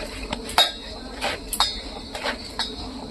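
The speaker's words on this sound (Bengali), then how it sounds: "এখন ঢাকনাটা তুললাম" A metal lid is lifted off a cooking pot of vegetable ghonto, giving several light metallic clinks and taps spread across a few seconds, close by over low kitchen background noise.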